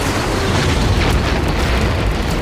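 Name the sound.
rocket explosion tearing apart a fighter aircraft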